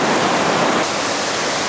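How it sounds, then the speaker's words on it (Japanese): A waterfall on a mountain stream roars as a loud, steady rush of water, a dense continuous hiss with no pauses and no talking. "最後の難所、滝があります。"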